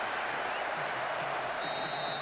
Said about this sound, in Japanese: 相手のブーイングが鳴 り響き